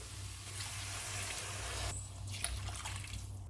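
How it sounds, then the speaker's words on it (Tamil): Water pours steadily into a pressure cooker for vegetable biryani over a low background hum, a soft continuous splashing that shifts slightly partway through. "இப்போ தண்ணி சேர்த்துடலாம்."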